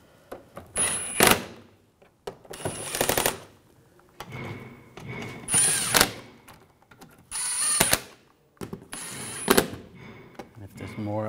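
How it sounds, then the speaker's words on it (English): Bolts on the front right CV axle of a 2009–2010 BMW 535i xDrive are tightened in five or six separate bursts of rapid mechanical ratcheting and clicking. Each burst is close, sharp and loud, with quiet gaps between them. "Now we're gonna tighten those down."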